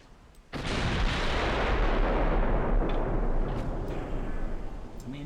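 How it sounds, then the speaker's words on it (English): Battleship main guns fire in the naval game Ultimate Admiral Dreadnoughts: a sudden loud broadband blast after a brief quiet moment, then a long rumbling roar that slowly decays over several seconds, with no voices over it. "Turns the guns. Turning, turning, turning. And fire."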